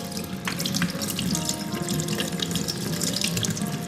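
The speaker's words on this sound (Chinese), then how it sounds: "下面我们把生蚝里边的肉给它洗一下。" Tap water runs steadily into a sink while raw oyster meat is rinsed, a close, continuous splashing flow with small sloshes from the washing.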